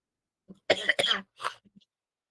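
Several short coughs in quick succession, the middle burst loudest and longest, followed by a couple of faint throat sounds, from a person at a career guidance program for PUC students, with no talk over them.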